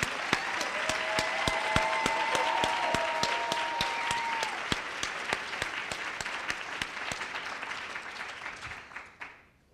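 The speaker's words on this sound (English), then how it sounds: "let's also give a round of applause just for Natalie" Audience applause at a federal updates session, steady broadband clapping with sharp individual claps standing out, gradually thinning and fading toward the end.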